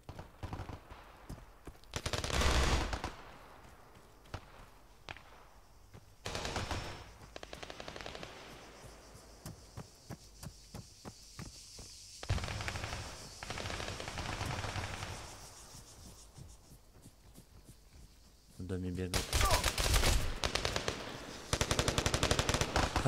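Automatic gunfire from an Arma 3 Altis Life roleplay match rattles in loud bursts, with quieter scattered single shots between them and a heavy final volley near the end.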